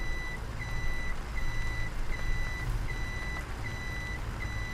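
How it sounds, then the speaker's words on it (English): A hook lift truck in Farming Simulator 17 gives off a steady series of high reversing beeps, evenly spaced about every half second, over a low engine rumble with no talk. "And this is just a hook lift truck."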